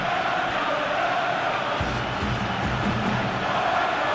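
Stadium crowd noise from a PES 20 football simulation of Barcelona against Athletic Bilbao in La Liga, a steady broad roar that swells slightly partway through, with no commentary over it.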